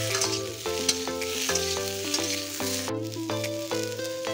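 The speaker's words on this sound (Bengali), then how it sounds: "এবারে মশলা এবং সবজিগুলো ভালো করে কড়াই ভালো করে নাড়িয়ে মিক্সড করে দিলাম।" Spices and vegetables being stirred in a hot wok for a Bengali drumstick and bitter gourd dish, producing a loud continuous sizzle with rhythmic spatula scrapes and clanks against the metal; no speech.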